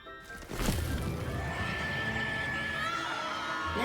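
A shrill, sustained scream from a mandrake being pulled up in the Hogwarts Legacy video game, starting abruptly and continuing loud and piercing over game noise.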